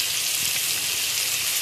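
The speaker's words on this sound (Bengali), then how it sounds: "আর এখানে চিংড়ি মাছটা ভাজছি" Prawns fry in a pan with a constant close, crackling sizzle, a steady hiss that neither swells nor fades over the short stretch.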